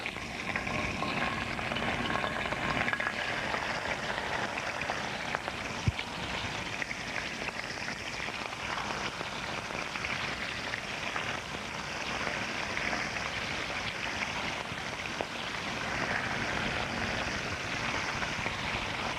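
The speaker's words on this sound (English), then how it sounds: "And then they go into the pan and you saute them for 2 to 3 minutes." Sardines sautéing in a pan, a steady, even crackling sizzle that carries on unbroken and moderately quiet, with no one talking.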